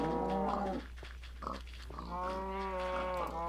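Several pig grunts and oinks from a blocky sandbox farm game with a new texture pack, harmonic snorts spread across a few seconds, the farm ambience otherwise quiet with no talking.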